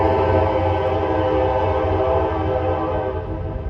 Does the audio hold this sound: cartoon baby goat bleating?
no